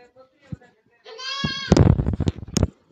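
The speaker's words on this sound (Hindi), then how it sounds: "ये बकरी है जी" A desi goat on a farm near Harnoli in Mianwali district gives a single clear bleat at close range, then people talk over shuffling and knocking sounds.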